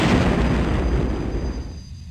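A destroyed target explodes in a Windows 98-era space combat game, one loud close blast with a rumbling roar that fades over two seconds.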